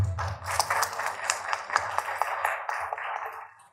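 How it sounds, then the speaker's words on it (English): Audience applause for a team at a motivational leadership event in the Philippines: a steady crowd of clapping hands that swells, holds, then fades out near the end. "So one big applause again for the whole team"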